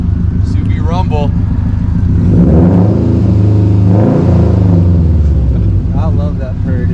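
Subaru STI with a turbo-back, nearly straight-pipe exhaust and a single resonator, rumbling loudly up close as the engine revs, rising and falling in pitch, with brief talk at the start and end.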